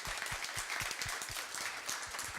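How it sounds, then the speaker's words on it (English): Applause from a meetup audience at an Ember.js developer gathering in New York, a steady wash of many hands clapping, moderately loud and continuous throughout with no voices over it. "Let's give another round of applause to Hassan."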